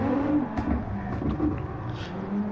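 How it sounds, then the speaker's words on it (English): Gran Turismo 7 race car engine rumbling steadily, with revs rising and dipping through gear changes over a couple of seconds, loud and continuous with no talking. "you guys can hear when the gear switches go down and when I give it gas"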